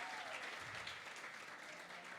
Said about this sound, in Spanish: Un fuerte aplauso a todos los colombianos y venezolanos que están en este lugar